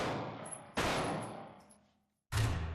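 Gunfire in a staged robbery scene comes as three loud, sharp shots in quick succession. Each blast is close and booming, with a decaying tail and a short gap before the last one.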